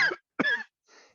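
A person deliberately coughs, producing three short, separate coughs close up with brief silences between them, the last one softer and breathier, with no talking around them.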